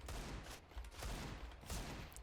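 Rapid video-game gunfire crackles in quick bursts, a short volley of close, sharp shots repeating over about two seconds.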